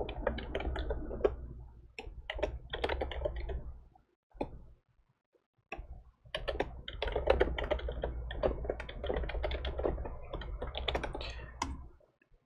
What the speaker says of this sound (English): So I have to type in stuff because he can't hear me.